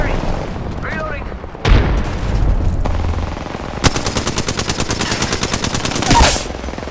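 Rapid automatic gunfire in the video game Apex Legends, loud and close, with dense repeated shots and a heavy blast, while players talk over the fighting.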